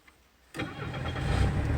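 Half a second of near silence, then a car's four-cylinder engine cranks and catches abruptly, settling into a close, steady idle that builds slightly in loudness.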